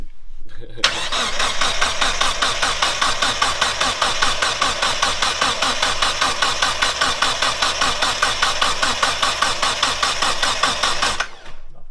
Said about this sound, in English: Yeah, crank it a bit longer.